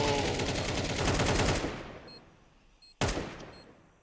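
An AK rifle fires a sustained automatic burst in a Counter-Strike match, loud and dense, then cuts off, followed by one more sharp shot near the end.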